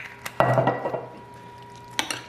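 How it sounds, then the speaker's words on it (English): A spoon stirs a bruschetta mixture of elephant garlic and olive oil in a bowl, giving a loud clank of utensil against the dish, a few softer scrapes, then another pair of clinks near the end. "Now we're just going to stir it up, make sure we get everything mixed in well, especially the eggplant garlic"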